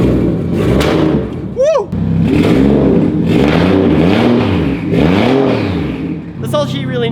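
A car that had sat idle for four or five months fires up on a new battery and revs repeatedly in rising and falling surges, loud and close, with a person cheering over the engine.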